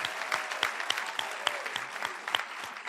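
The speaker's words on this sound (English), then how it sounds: "Can we give a round of applause to all the speakers that came up tonight?" Audience applause at a tribute event for a film director, a dense burst of clapping from a crowd that carries on steadily and fairly loud for the full stretch.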